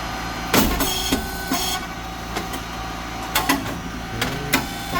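An SYP8002 rice cake machine runs with a constant hum from its motor, pump and fan, broken by sharp periodic clacks and bursts of mechanical action, close and fairly loud.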